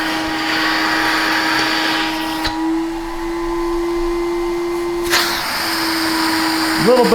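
A TriStar vacuum cleaner fitted with a brand new HEPA bag runs with a steady, loud motor whine and a constant tone, its pitch shifting slightly a couple of times.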